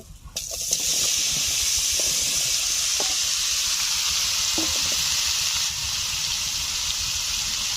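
Chopped, washed bottle gourd (lau) dropped into plenty of hot oil left from frying fish, giving a loud, steady sizzle and hiss that swells up within the first second and carries on continuously, with a few faint clinks.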